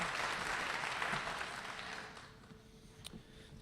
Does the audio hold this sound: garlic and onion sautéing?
no